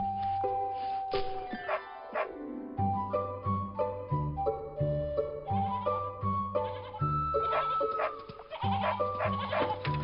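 A lost sheep bleats repeatedly over a busy musical background, its calls wavering and fairly loud, rising and falling in short bursts through the scene.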